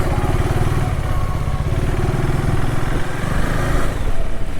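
A motorcycle engine runs steadily and loudly close by with a throbbing low rumble as the bike sets off from Ayodhya onto the highway toward Patna, with no voices.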